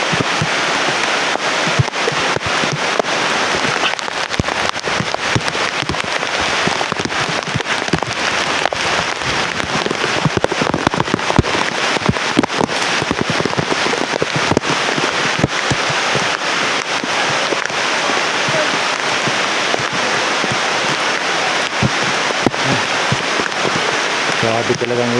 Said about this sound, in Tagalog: Grabe talagang ulan.